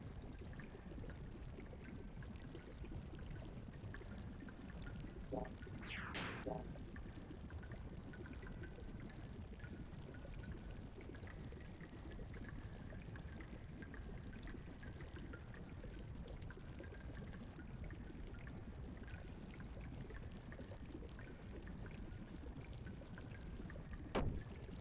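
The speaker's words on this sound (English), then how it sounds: "Stupid sewer water." Sewer water flows steadily in a video game, a faint continuous rushing wash that stays even throughout, with a brief higher splash or squeak partway through.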